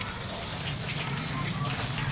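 Broad, steady hiss of water gushing and spraying over carpets being washed on a rooftop, continuous and fairly soft throughout.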